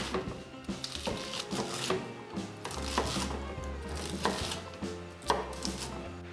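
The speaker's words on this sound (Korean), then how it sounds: "씻은 양배추 200g은 사각으로 잘라주세요." A knife chops bacon and cabbage on a cutting board in a home kitchen, giving rapid irregular clicking cuts over faint background music, fairly quiet and close.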